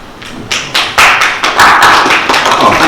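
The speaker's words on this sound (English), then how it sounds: "That was Team Lomachenko down there giving me a clap" Scattered applause from Team Lomachenko at a boxing press conference, a handful of sharp, close claps growing denser over a few seconds, without speech.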